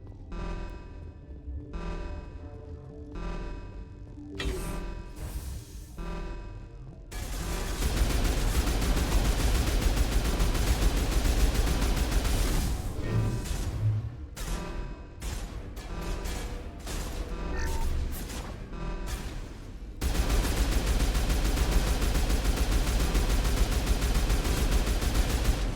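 Rapid bursts of heavy gunfire from a recoiling weapon in Mass Effect, sharp repeated shots in quick clusters with brief pauses, then long sustained loud volleys of automatic fire, with no one talking.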